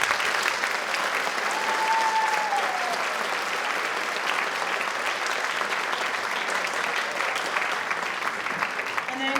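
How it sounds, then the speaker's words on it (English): Sustained audience applause for a sixth grade choir at a spring school concert, a dense, even roar of clapping that holds steady for the whole stretch with a few faint cheers. "So give them a round of applause."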